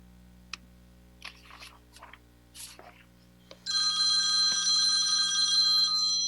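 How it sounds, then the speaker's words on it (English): A phone rings loudly and continuously during a school committee workshop, after a few soft clicks and brief muffled bits of sound, the bright repeating ring starting partway through and running to the end. "my phone is ringing"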